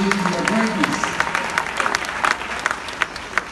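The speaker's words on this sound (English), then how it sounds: "I want you to give yourselves a round of applause" A crowd at a motivational speech in Jamaica claps together, a busy patter of many hands with some voices mixed in early, thinning slightly toward the end.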